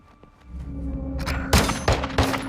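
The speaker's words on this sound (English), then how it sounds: "That gunfire alerted them." A few loud gunshots crack in quick succession over a low rumbling background, combat in Call of Duty: Modern Warfare 2 on PS5.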